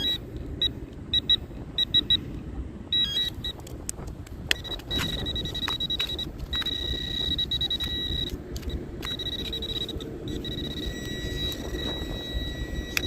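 A metal detector beeps in repeated short tones over a buried target outdoors, then settles into a steadier high-pitched signal, heard over a continuous low rumble of wind or traffic.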